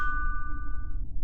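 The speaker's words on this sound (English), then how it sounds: "The doorbell rings again." A doorbell rings once at 2 a.m.: a single bright ding that rings out and fades over about a second, close and clear over a low background rumble.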